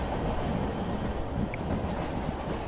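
A steady, low rumble of a train running, constant and fairly loud throughout, with no voices.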